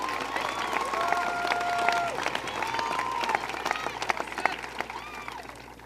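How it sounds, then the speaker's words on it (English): An audience applauds at a high school graduation ceremony, with steady dense clapping and a few faint cheers under a sustained electronic whistle-like tone, the clapping easing slightly toward the end. "let's have another round of applause for these people"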